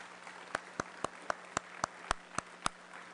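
Sharp, evenly spaced claps ring out one at a time, about ten in a slow steady rhythm, over a quiet room hum at a club dinner program.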